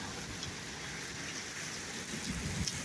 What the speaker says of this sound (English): Heavy rain and hail.